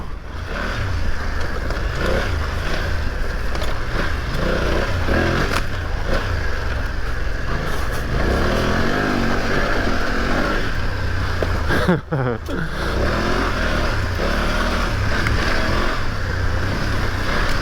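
A BMW F900 GS Enduro motorcycle engine drones loudly and continuously while riding, with rising and falling revs and gear changes under steady road and wind rush.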